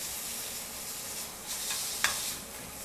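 A steak sears in a hot pan with a soft, steady hiss of fat, brief crackling bursts rising near the end. No one speaks.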